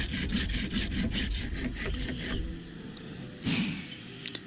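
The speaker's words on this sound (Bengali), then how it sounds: "এবার এগুলোকে ভালো করে ঘষে সুন্দর করে নেওয়া হচ্ছে।" Hand-carved wooden pieces are rubbed smooth with quick, rhythmic abrasive strokes that rasp loudly up close for a couple of seconds. After a pause, one more scraping pass follows.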